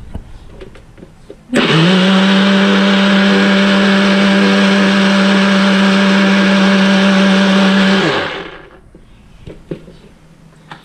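A bullet blender whirring at full speed as it pulps its contents, a loud steady motor whine that starts abruptly, holds for about six seconds, then winds down and stops, leaving a quiet room.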